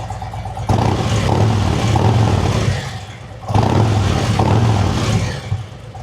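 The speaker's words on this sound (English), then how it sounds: "I'll rev it up." A motorcycle engine, a Road Glide fitted with S&S slip-on exhaust, revs twice in strong bursts, a throaty, rumbling exhaust note rising and falling over a steady idle, close and loud.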